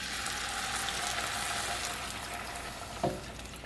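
Garlic sizzles in a pan alongside simmered onions and mushrooms, a steady soft hiss of frying with a single brief clink of utensil near the end.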